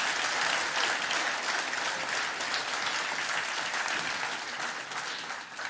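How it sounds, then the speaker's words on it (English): Sustained applause from a church congregation at a Sunday morning service, steady dense clapping that holds at an even level for several seconds with no voices over it. "Give them a big round of applause."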